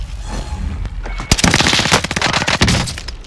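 Video game gunfire bursts in a Call of Duty Caldera match, a loud rattling volley of fast automatic shots erupting mid-clip after quieter rumbling, close and sustained for about two seconds.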